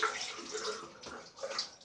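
Cold water is splashed and rinsed over a face after a straight razor shave, giving close, irregular splashing and trickling at a moderate level, with no talk.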